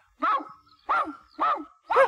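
A Chihuahua gives four sharp, evenly spaced yips close by, each short and high-pitched, with silence between them.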